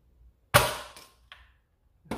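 A Nerf DinoSquad Tricera-Blast blaster fires a dart with one sharp, close snap, followed by a few fainter mechanical clicks and knocks in an otherwise quiet space.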